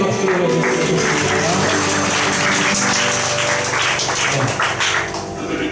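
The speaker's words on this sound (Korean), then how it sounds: "하나님께 영광의 박수를 드리겠습니다" A church congregation claps in praise after a worship song, a dense, sustained round of applause filling the room for several seconds before tapering off slightly at the end.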